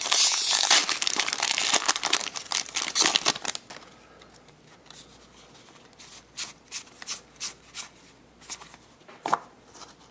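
Loud, close crinkling of the foil wrapper of a Magic: The Gathering Dragon's Maze booster pack for the first few seconds, followed by a sparse series of softer, separate snaps and rustles.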